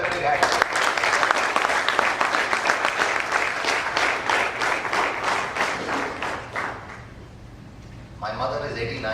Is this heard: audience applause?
yes